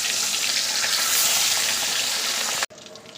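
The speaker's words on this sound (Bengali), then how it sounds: "তেল গরম হয়ে গেছে, এবার এক এক করে মাছগুলোকে ছেড়ে দিচ্ছি।" Pomfret fish fry in hot mustard oil in a kadai, giving a loud, steady, close sizzle that cuts off abruptly near the end.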